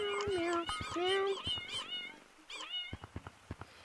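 A cat meows several times in a row, close and clear, with rising and falling pitch, then a run of short clicks or taps follows.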